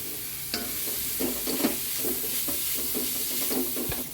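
Tempering for shavige chitranna (vermicelli) fries in a pan with a steady sizzle while a spoon stirs and scrapes in a rhythmic series of close strokes, with no talking.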